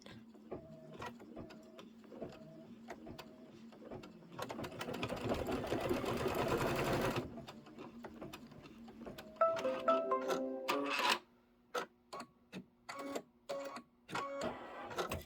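A sewing machine stitches fabric pieces for a quilt texture, starting with steady close mechanical whirring, a denser continuous run in the middle, and short, stop-start bursts of stitching toward the end.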